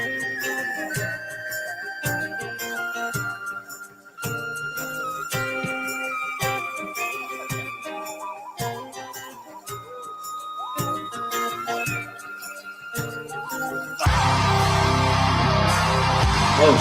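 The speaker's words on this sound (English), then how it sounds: "Your pan flute and penny whistles." Folk metal plays with pan flute and penny whistle melodies over steady drums and guitars, beats punctuating the tune, ending in a dense, loud burst.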